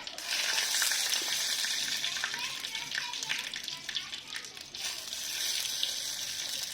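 Panch phoron spices, dried red chillies and bay leaves sizzle in hot mustard oil in a kadai, giving a loud, steady crackling hiss close by that runs through the whole stretch.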